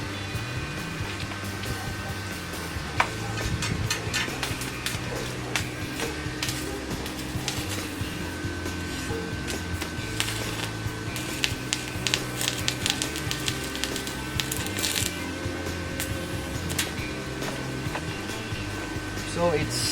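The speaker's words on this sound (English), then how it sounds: "So I will spot this one using my 60-13 welding rod." An inverter arc welder burning a 6013 rod gives a steady crackling, sizzling hiss that runs unbroken for the whole stretch, with a faint hum beneath.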